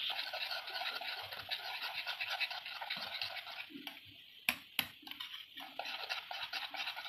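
Henna paste gets mixed in a bowl, a continuous close scratchy scraping with a steady rhythm, broken by two sharp knocks near the end before the stirring resumes.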